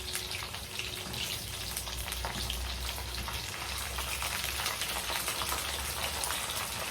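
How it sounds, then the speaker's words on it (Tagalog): French fries frying in a pan of oil make a faint, continuous bubbling sizzle with a busy patter of small pops, heard up close with no talk. "Ito, nagluluto ako ng french fries."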